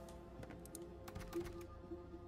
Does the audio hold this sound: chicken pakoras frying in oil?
no